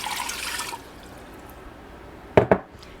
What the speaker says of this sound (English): I'm going to go ahead and add 3 cups of water